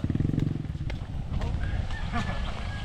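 A motorcycle ridden on a farm rumbles low and steady, loudest at first and then lingering beneath voices and faint bird-like calls.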